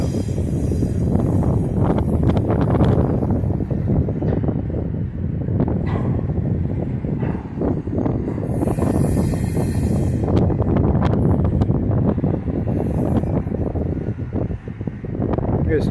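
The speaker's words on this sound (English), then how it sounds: "A little bit windy." Wind buffets a microphone outdoors beside a railway line in Binghamton, New York, a steady rough rumble with gusty bursts lasting throughout, loud and close.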